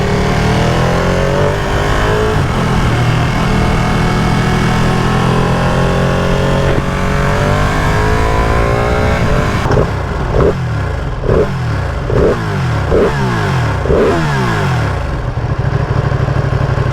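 A brand-new 2020 Ducati Panigale V2 motorcycle at zero miles, still breaking in, roars loudly as it accelerates on the road, climbing through the revs before a quick series of gear shifts with rhythmic rises in pitch.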